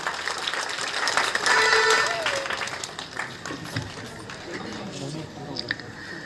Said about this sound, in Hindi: इनके लिए एक बार जोरदार वहां तक तालियां बजा दें।